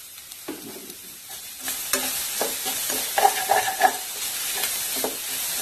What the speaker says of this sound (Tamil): அடுப்பு ஆஃப் பண்ணாலும் கொஞ்ச நேரம் கிளறி விட்டுருங்க